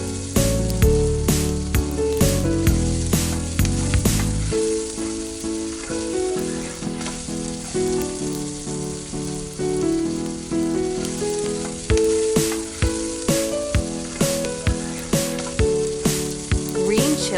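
Garlic and ginger paste frying in a tiny pan for a miniature egg curry: a steady broadband sizzle with soft stirring ticks, partly masked by prominent melodic music throughout.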